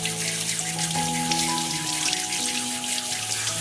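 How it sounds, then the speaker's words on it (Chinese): Lentil jelly is rinsed under a running kitchen tap, a steady close stream of water splashing continuously in a sink with no talk. "先把这个凉粉给它洗一下。"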